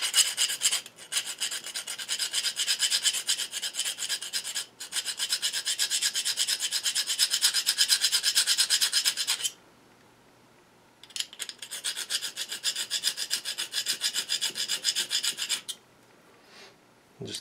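A barrel trimmer being sharpened with a file, producing long continuous rasping strokes that run for several seconds, break off into brief pauses, then resume, loud and close with no talking.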